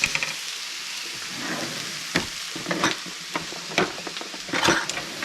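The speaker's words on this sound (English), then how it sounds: "Let's put the garlic in there." Garlic hits a hot frying pan for asparagus pasta primavera, sizzling steadily while a utensil stirs and scrapes in several sharp bursts, close up with no talking.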